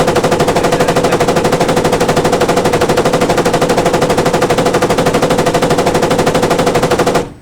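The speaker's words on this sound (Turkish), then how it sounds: "Makinalı tüfeğe geçiyorum." Sustained automatic fire from a machine gun in the video game Squad, a loud, rapid, unbroken burst of evenly spaced shots lasting about seven seconds before cutting off abruptly.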